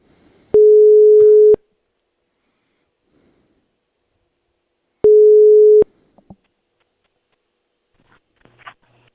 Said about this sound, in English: Sounds like a European phone.